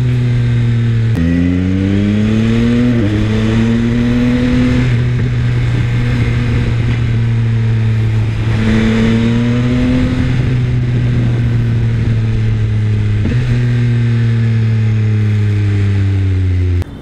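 Yamaha XSR900 motorcycle engine braking, a loud close engine drone that drops in pitch over several falling sweeps, with brief blips in between as the rider slows.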